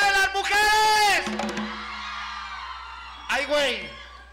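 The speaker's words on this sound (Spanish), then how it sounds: "¡El grito de las mujeres!" Women in a crowd at a live show let out loud, high rising whoops and shouts in two bursts, a long one at the start and a shorter one near the end.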